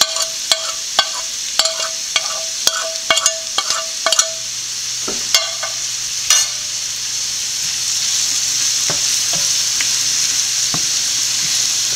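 Ground pepper and garam masala powder sauté in a pan for a squid dish, with a run of sharp scraping stirs over the first half, then a steady sizzle with occasional clinks.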